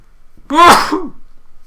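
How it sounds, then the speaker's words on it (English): A single loud, close human sneeze, a sharp sudden burst after a brief quiet intake, then fading back to near silence. "I think I'm gonna have to sneeze in a bit."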